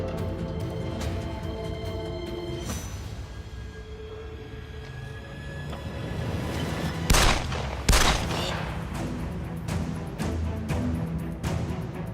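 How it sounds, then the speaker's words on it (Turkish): A burst of rapid gunfire crackles and booms, with several sharp, loud shots clustered in the middle over a noisy, reverberant background. "Nereden geldi silah sesi?"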